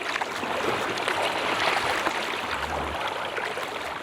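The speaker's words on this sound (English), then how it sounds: "I'm paddling a remote stretch of the coastline outside of Seward, Alaska, without gear." Steady wash of water and paddle strokes from a kayak moving along a remote stretch of coastline outside Seward, Alaska, a continuous close splashing hiss with no voices.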